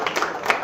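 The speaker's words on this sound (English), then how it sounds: "I want to give the mayor just another round of applause" A brief burst of audience applause for a city mayor at a luncheon event, many hands clapping together at close range.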